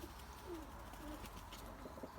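Pigeons coo softly in a breeding loft, a few faint low cooing calls spaced across a quiet background.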